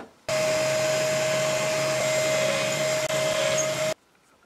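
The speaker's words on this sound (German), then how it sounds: "ich bohre jetzt erstmal hier die vorderen Löcher, alle in der Reihe" A cordless drill bores a row of holes in a mounting strip for a Scheppach HMS 1080 planer-thicknesser, running as one steady, loud whine of about four seconds with a constant tone, then stopping abruptly.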